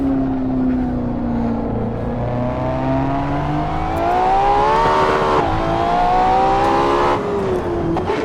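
Ferrari LaFerrari engine in a racing video game revving steadily, pitch climbing through the gears with a brief dip at a shift, loud and continuous with no talk.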